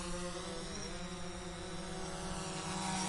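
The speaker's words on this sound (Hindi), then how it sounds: "जा ड्रोन छोड़ दे" A drone lifts off and hovers with a steady, dense propeller whine and buzz that fills the whole clip at an even loudness, with no voices.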